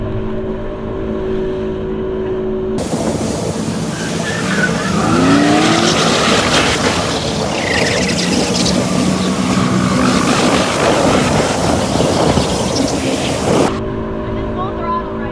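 A jet ski engine roars at full throttle over open water in the Exuma Bahamas, a loud sustained high-revving drone with wind and spray noise, while voices talk and exclaim over it.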